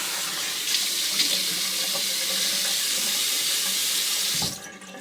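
Tap water runs steadily from a faucet as a safety razor is rinsed during a wet shave with a Rockwell 6S, a continuous close hiss that cuts off abruptly near the end.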